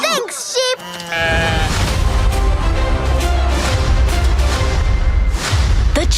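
An animated sheep lets out loud, wavering bleats up close, followed by a dense burst of lively music and sound effects that carries on to the end.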